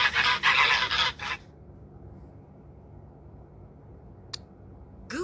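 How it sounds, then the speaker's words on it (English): A farm goose honks in a rapid cluster of loud, harsh calls over the first second and a half, followed by near quiet broken only by a single faint click. "Goose."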